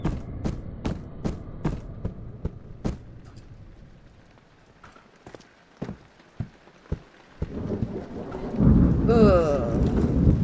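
Sharp cracks of lightning and rumbling thunder from a storm in the video game Amnesia, with steady rain throughout. The cracks start as quick repeated snaps, then grow more scattered, and a louder burst of storm noise swells near the end.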